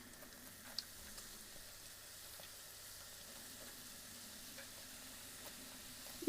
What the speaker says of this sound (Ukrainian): смажив з другої сторони на середньому вогні до готовності